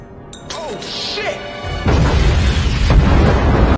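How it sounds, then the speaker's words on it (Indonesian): A sound bomb goes off in an action film, a heavy booming blast that rumbles on for about two seconds, with a second surge near the end, following a stretch of talk. "Ted meledakkan sebuah bom suara yang membuat orang-orang tergeletak"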